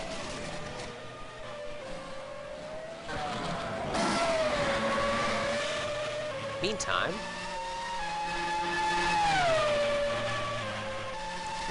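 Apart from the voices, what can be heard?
race car engines revving during a race replay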